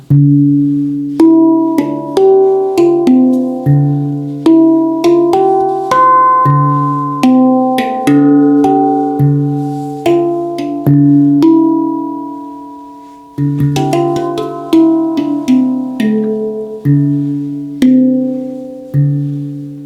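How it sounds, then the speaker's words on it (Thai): Ten-note handpan notes ring out in a gentle, flowing melody, each struck tone sustaining and overlapping, with a brief pause midway before the playing resumes. "แฮนด์แพนนี้เป็นเสียงที่นุ่มนวล"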